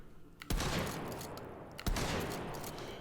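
Two loud gunshots ring out about a second apart in the VR shooter Hot Dogs, Horseshoes & Hand Grenades, each a sharp crack followed by a long booming, echoing tail.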